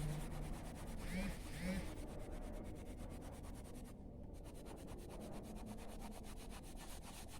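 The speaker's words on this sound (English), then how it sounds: "I'm using my pencil color." Colored pencil scratches and rubs across paper while a storyboard drawing of a rabbit and tortoise sky is filled in, a soft, continuous scratchy texture with rhythmic strokes, faint and close.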